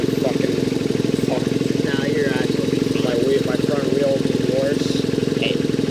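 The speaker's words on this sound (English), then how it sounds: "Turn your quad off." A quad bike engine runs steadily and loud throughout, a continuous close rumble with people talking over it.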